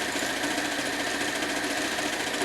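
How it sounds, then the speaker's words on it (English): A sewing machine stitches a t-shirt quilt with a fast, steady mechanical whir and needle chatter that stays loud and continuous throughout, close by and with no talking. "So I'm actually trying to stretch it and move it as it goes into the sewing machine."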